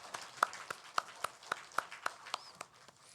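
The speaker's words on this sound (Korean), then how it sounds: "다시 한번 우리 박수로 하나님 앞에 영광 올려드리겠습니다" Congregation clapping during a Sunday church service, heard as a slow, evenly spaced run of single sharp claps at a moderate distance, roughly four per second, with no voices over it.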